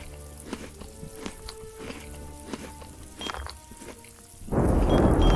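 Thunderstorm in the video game MachiaVillain: scattered soft ticks and taps give way to a sudden loud rumbling wash of rain and thunder in the last second, with no talk.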